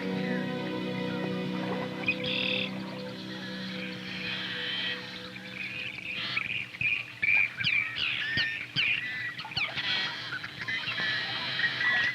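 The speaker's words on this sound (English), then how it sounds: "It's not likely I'll see these geese again today" Geese honk out in a marsh, a chorus of nasal calls that grows more broken and insistent toward the end, moderately distant over faint background chirps, with no voices.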